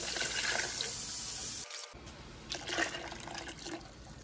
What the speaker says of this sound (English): We need to add water.